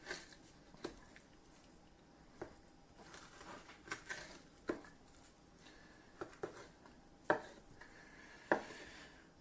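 Knife slicing ribeye steaks from a beef roast on a cutting board, a series of quiet scattered cuts and taps with a few sharper knocks, close and soft with no talking.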